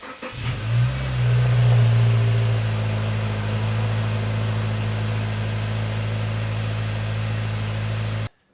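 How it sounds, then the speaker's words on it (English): A Subaru SJ Forester cold-starts with a stock mid-pipe and axle-back muffler delete: a quick crank and catch, a loud rev flare, then a steady raspy high idle that runs on until it cuts off abruptly. "for those of you who want the basically the stock mid-pipe and a muffler delete, this is what it's going to sound like"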